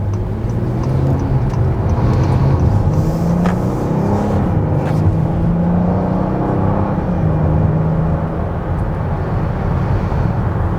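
A 2021 Honda Odyssey Touring minivan accelerates to merge into traffic, its engine droning loud and steady from inside the cabin with rising tones and road noise throughout, no voices.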